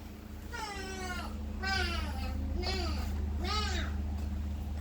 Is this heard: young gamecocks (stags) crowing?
no